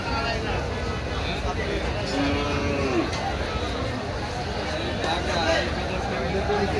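Cattle low loudly at a busy Bangladeshi livestock market before Eid al-Adha, with long deep moos breaking out over a constant crowd murmur and nearby talking.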